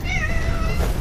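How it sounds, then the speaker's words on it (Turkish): A street cat on an Istanbul university campus gives a single drawn-out meow, close and fairly loud over outdoor background noise. "Oha bu kedi."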